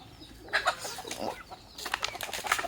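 Chickens cluck and flutter around trays of bran set outside their coop, with short scattered calls and wing sounds at close range, no talking.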